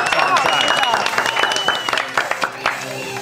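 A studio audience on a cooking show applauds in a brief burst of clapping, with voices talking over it.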